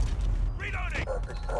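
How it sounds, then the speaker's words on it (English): Weapon reload in Call of Duty: Modern Warfare, a short burst of mechanical clicks and metallic creaks lasting under two seconds, set close against steady game background noise with a voice talking over it. "Reloading!"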